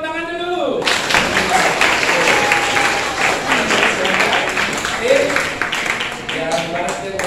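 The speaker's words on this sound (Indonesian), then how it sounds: "Mari kasih tepuk tangan dulu." An audience of students claps together in a classroom: dense, sustained applause that starts abruptly and stays loud for several seconds.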